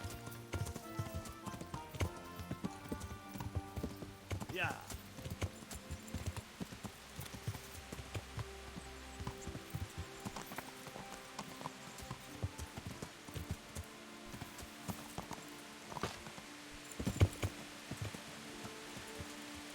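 Horse hooves clip-clop in steady rhythm in the medieval game Kingdom Come: Deliverance, a moderately loud, continuous plodding over a soft ambient and music bed, with brief sparse voices.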